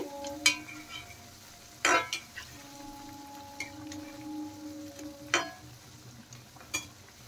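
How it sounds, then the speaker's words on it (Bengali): Potato litti frying in a pan of oil: a steady low sizzle with a few sharp clinks and scrapes as pieces are turned, no talking. "উল্টে পাল্টে ভালো করে আমি ভেজে নেব।"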